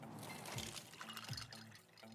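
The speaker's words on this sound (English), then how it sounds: "Those are the sounds of a brand new ice maker dropping cubes into a fresh glass of water" Fresh ice cubes from a brand new ice maker dropping into a glass of water, faint clinks and watery plops at a steady pace amid soft liquid trickling, heard close with no talking.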